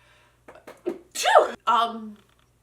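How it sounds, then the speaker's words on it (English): A single sharp sneeze bursts out, preceded by a few quick catching breaths, close and loud against otherwise quiet surroundings. "I just have allergies, that's why I sneezed"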